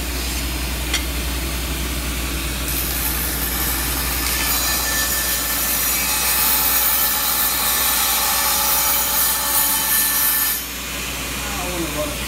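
A machine makes a steady, loud trim cut on a precision part adjusted with a micro adjuster, a continuous grinding hiss that holds for several seconds and then drops off abruptly near the end.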